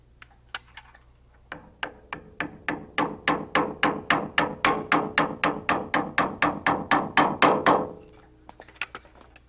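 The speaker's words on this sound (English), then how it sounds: "Place a small amount of grease on the bolt threads and drive the bolt in." A greased bolt driven in with an air impact tool while building a Rotorway kit helicopter, a close, loud burst of rapid evenly spaced hammering clacks lasting about six seconds after a few single knocks.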